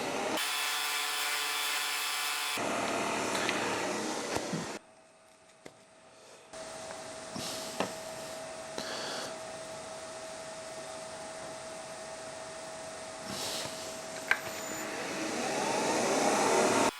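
A drill-driven sander in a Jacob's chuck whirs and drones, shifting between loud bursts and quieter stretches, with occasional knocks, whines and scraping as wood is sanded nearby.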